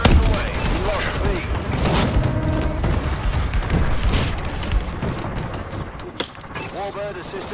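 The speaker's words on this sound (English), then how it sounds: "Friendly bombing run clearing the way." Heavy explosions and rumbling blasts from an airstrike bombing run in the video game Call of Duty: Advanced Warfare, dense and continuous, mixed with gunfire and a game announcer's voice.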